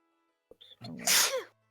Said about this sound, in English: was an adorable sneeze